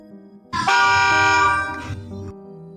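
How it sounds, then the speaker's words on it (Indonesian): A truck horn on a road blares loud and close in one long, sustained blast of about two seconds, then cuts off, leaving a low rumble. "Suara klakson mobil terdengar sangat kencang dan malah seperti mau menabrak kami."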